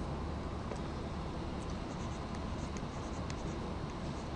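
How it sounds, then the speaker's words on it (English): Steady scratching of a marker or chalk writing on a board, continuous and close, with no talk over it. "so let me write the word nearer correct"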